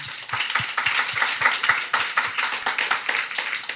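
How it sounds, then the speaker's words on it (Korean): A church congregation gives a round of encouraging applause during a service, a dense, steady burst of many hands clapping close by that continues for several seconds without talk. "우리 한번 격려의 박수 합시다."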